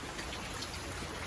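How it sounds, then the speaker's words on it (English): Steady rain falling outside, a soft even hiss of drops with no break, fairly faint and close throughout, with no voices over it. "Because it's raining, we can't get the lumber out in the rain"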